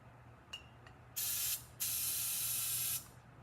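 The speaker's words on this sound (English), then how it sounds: "it's doing a dripping thing as I'm spraying it" A can of looking glass mirror spray paint hisses loudly in two long bursts, the first short and the second longer, after a couple of faint clicks and rattles, with no talking.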